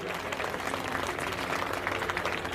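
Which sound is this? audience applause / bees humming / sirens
audience applause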